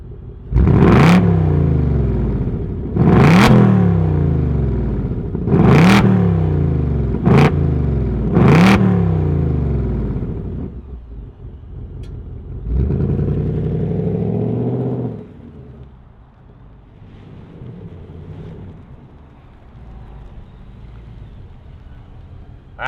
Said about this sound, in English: let's fire this thing up and make it blow out the candles